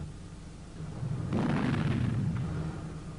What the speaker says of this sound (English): when gases and air are mixed in the right proportion, this can lead to an explosion